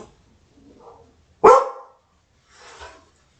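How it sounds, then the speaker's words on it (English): A single loud, sharp dog bark up close, followed by a softer, breathier yelp, with quiet moments around them. "Can you please stop barking?"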